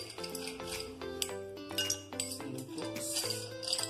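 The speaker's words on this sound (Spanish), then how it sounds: "Primero vierto, son 5 cubos de hielo" Five small ice cubes poured into a chilled cocktail glass, a quick run of close, bright clinks and taps against the glass, irregular and fairly soft.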